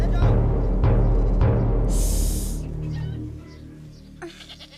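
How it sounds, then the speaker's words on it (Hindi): A goat bleats loudly in a few quick wavering cries over a thick, rumbling film soundtrack, followed by a brief high tone and softer sounds. "बकरी की आवाज थी वो।"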